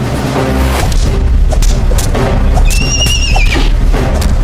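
A horse whinnies loudly with a rising, wavering neigh, set over heavy rumbling booms and dramatic background sound, in a school stage play.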